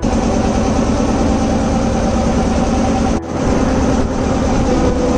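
A boat's engine drones loud and steady on a river through dense mangrove forest, a continuous low rumble with a brief dip partway through and no voices.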